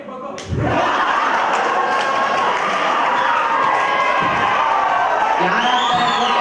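A stage show audience at a Kannada quiz-show drama bursts into sustained applause and cheering after a quieter opening, loud and dense throughout, with shouts over the clapping and a voice briefly breaking through near the end.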